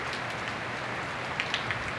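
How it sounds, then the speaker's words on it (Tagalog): A steady wash of rain falls on a surface, dense and continuous, with a few sharper drops standing out near the end. "Isang araw na po malakas ang ulan namin dito."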